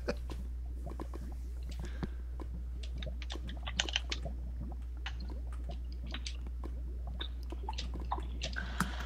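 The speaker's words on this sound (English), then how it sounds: "You are typing an essay." Computer keyboard typing clicks in quick irregular bursts, close and fairly soft, over a steady low hum during a Minecraft Hunger Games session.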